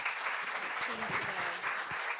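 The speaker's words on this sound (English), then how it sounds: "if you give her a nice round of applause" Audience applause at a talk on resiliency and stress management, welcoming a guest doctor: a steady wash of clapping throughout with a voice speaking briefly over it.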